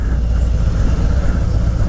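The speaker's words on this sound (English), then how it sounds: "we got bumper to bumper traffic" Bumper-to-bumper traffic crawls toward the beach on Flagler Avenue during Daytona Bike Week, a loud, steady low rumble of engines close by.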